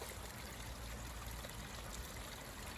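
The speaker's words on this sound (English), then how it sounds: "I dug it out so the rainwater can go and give the creek more flow." Creek water flows steadily, a faint and even trickling wash with no breaks.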